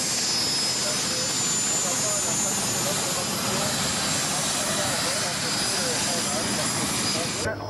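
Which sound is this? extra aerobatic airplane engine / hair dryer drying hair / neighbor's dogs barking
extra aerobatic airplane engine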